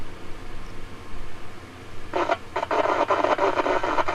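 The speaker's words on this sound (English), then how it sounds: "Sounds like sideband to me." Single sideband voice transmission received on an amateur radio, likely a Yaesu FT-891 on 2 metres. It starts as a faint hiss, then a loud, garbled, pulsing burst of sideband chatter fills the second half.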